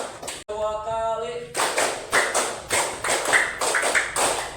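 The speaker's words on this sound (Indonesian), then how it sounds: "tepuk tangan buat kita semua" A classroom group claps their hands after a brief sung or voiced tone, then a series of rhythmic, sharp claps in regular bursts, loud and close.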